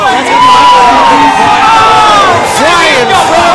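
A wrestling crowd at a Coastal Empire Wrestling show cheers loudly for a wrestler. The shouting and whooping roar on steadily without a break and sound close and dense.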